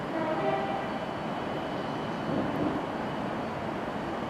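Class 37 diesel locomotive hauling a freight train out of Crewe, a steady broad rumble and rolling rail noise holding close and even throughout with no voices.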